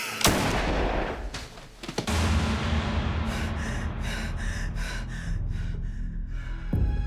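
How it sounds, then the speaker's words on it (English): A gunshot rings out in a tense domestic confrontation: a loud, sharp blast near the start, then a second heavy burst about two seconds later, followed by sustained harsh noise with no talking. "She was just trying to scare him, so she shot him in the air."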